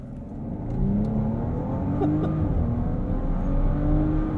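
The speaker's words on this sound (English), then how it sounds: "We also got to hear from that W12 for the first time." A Bentley Bentayga Speed with its W12 engine launching hard on a damp, misty road, the engine note rising in a steady surge of rising harmonics, loud and close throughout with no talk.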